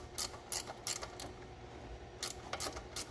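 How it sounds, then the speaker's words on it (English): A ratchet wrench turns on an alternator bracket bolt, giving quiet, close clicking bursts in short repeated strokes with brief pauses between them. "Ratcheted it like 100 times and I don't think it's moving."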